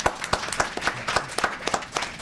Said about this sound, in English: Just a round of applause for Lorna and David.